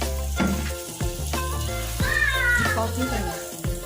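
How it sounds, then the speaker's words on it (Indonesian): Ground candlenut sautéing in a pan, a light sizzle and stirring under a meowing cat that dominates the clip, with some voice sounds mixed in. "kemiri dihaluskan, ditumis sampai harum"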